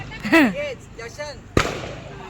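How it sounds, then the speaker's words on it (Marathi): A single sharp firecracker bang bursts at a night-time birthday celebration, preceded by voices and chatter, with a short decaying tail after the blast. "फटाका कोणी वाजवले लगेच?"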